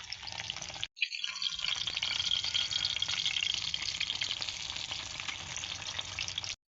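Food frying in cooking oil with a dense, steady hiss that cuts out briefly near the start, then returns loud and continuous to the end, with no talking.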